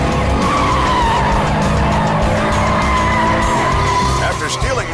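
A speeding car driven by a teenage joyrider skids through traffic, tires squealing loudly and continuously over engine roar for several seconds.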